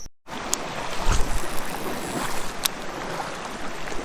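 A spotted bass strikes a topwater lure on a small creek with a sudden splash, followed by churning water as the fish thrashes near the surface, set against outdoor noise and breeze.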